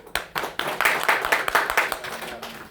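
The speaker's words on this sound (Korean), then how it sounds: "다 같이 박수로 환영합니다" A church congregation at a Wednesday service claps in welcome, a brief round of many hands applauding close by, rising quickly and then trailing off.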